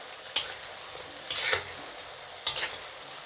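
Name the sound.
onions frying in oil with salt and turmeric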